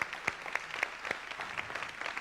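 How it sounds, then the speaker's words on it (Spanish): Applause at a year-end event on stage, a modest scattering of claps from a small audience, light and uneven for a couple of seconds. "Fuerte aplauso, Alfredo."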